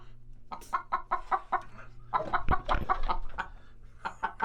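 Chickens cluck in a rapid rhythmic series of calls near a bus, close and fairly loud, with a louder burst of clucking partway through and no talk.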